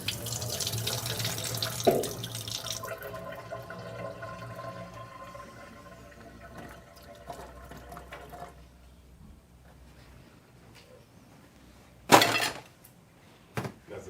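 Liquid from a container of cherries drained into a sink for pistachio cherry ice cream, heard as a soft steady trickle and splash, with a couple of sharper knocks, probably the container against the basin, near the end.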